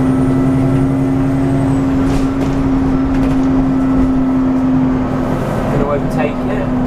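An Alexander Dennis Enviro400 double-decker bus in Bedford driving along and overtaking another bus, with a steady engine drone and a sustained low whine heard from inside, while people talk over it.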